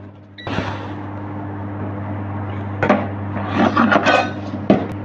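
A utensil works minced meat into béchamel sauce in a pot for lasagna, with soft scraping and thick mixing sounds growing busier toward the end over a steady low hum, and no speech.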